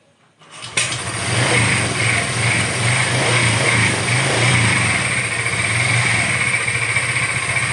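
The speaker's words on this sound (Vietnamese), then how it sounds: "Rồi để nổ máy cái đã." A Honda PCX scooter engine cranks and catches after a brief pause, then settles into a steady, close, even idle hum that holds for several seconds, with no talking.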